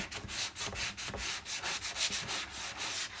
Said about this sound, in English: if you really want a good arm workout, you just sand stuff a lot